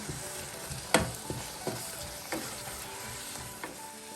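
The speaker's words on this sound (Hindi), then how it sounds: "अब इसमें ऐड करेंगे टूना फिश 200 ग्राम। मिक्स कर लेंगे अच्छी तरह।" Tuna fish filling stirred in a hot pan for Spanish samosa patties, with a soft steady sizzle and a few sharp spoon scrapes and clinks against the pan at irregular intervals.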